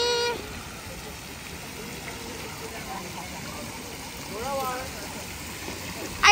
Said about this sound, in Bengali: এই পানি ছিটা লাগছে, মুখে লাগছে, মুখে।